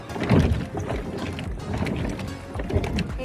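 A boat on the water at the seaside in Gopalpur, heard as a rough wash of water and wind buffeting, with faint voices in the background.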